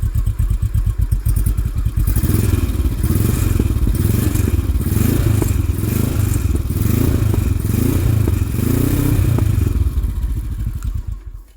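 Royal Enfield Himalayan 822cc parallel-twin engine, close and loud, settling from a lumpy idle into several repeated throttle blips that rise and fall in a steady rhythm, then cut back to idle at the end.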